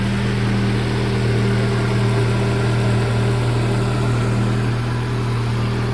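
An Opel Tigra engine idles on petrol, a steady low hum with a firm even drone and slight vibration, close by and unchanging throughout.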